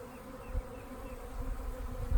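Honeybees hum steadily around an opened beehive, a close, low, continuous buzz with a few brief bumps and knocks.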